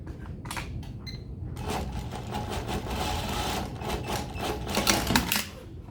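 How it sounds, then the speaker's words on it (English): A sewing machine stitches two raw fabric edges of a bustier together for an eyelet lacing closure, running as a steady, close, continuous whir for the whole stretch. "I'm just going to stitch it together."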